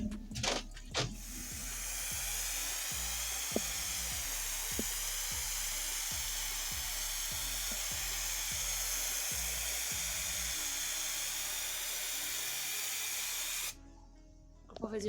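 Aerosol spray glue gives a long, steady, loud hiss lasting over ten seconds, preceded by a few brief handling knocks and ending abruptly, with faint ticking underneath.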